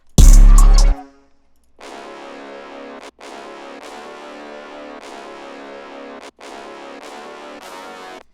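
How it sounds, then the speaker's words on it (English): A Venexi octave brass patch in FL Studio, EQ'd to cut the lows, plays a repeating bright brass pattern of short stabs with small gaps, heard alone after a loud brief hit at the start. "First sound I got is this Venexi octave brass playing this pattern."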